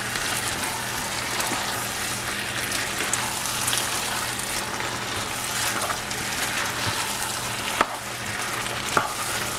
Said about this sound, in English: I'm going to mix it all together